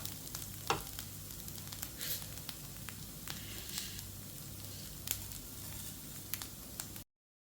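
Grated coconut and black sesame seeds roast in a pan, giving a soft, steady crackle with scattered faint scrapes and light pops, quiet and close, with no one speaking, ending in abrupt silence near the close.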